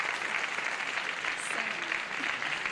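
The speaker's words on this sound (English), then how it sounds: "the audience is semi-applauding" A television game show studio audience claps without much enthusiasm, a thin, even patter of applause that holds steady for a few seconds.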